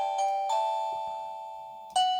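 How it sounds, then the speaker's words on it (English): A video doorbell chime rings as clear electronic tones, a few quick dings at the start and another strike near the end, each ringing on and decaying slowly indoors. "it's supposed to chime. So there we go. So that's chimed."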